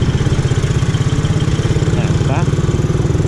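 A Suzuki Raider R150 Fi motorcycle engine runs with a steady, close, throbbing low pulse for the whole clip while someone speaks briefly over it.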